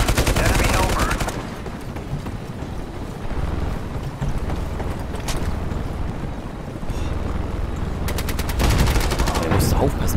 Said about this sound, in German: Aufpassen, hier schießt uns einer.